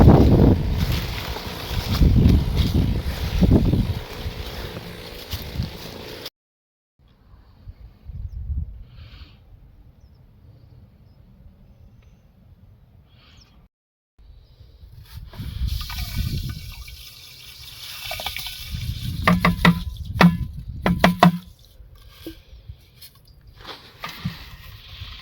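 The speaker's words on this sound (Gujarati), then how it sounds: "આપણે આમાં નળી વાહે રાખીને દવાનો છંટકાવ કરીએ છીએ." Pesticide, a Panama-brand spray, is sprayed on cotton plants through a hose, giving loud broad hissing and splashing bursts at first, then a quiet stretch, then renewed spraying and spattering toward the end.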